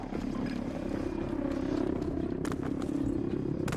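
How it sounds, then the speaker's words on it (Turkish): A helicopter in the video game Battlefield 2042 drones steadily with a dense, continuous rotor roar that stays loud and unbroken throughout, with no talking over it. "Helikopter."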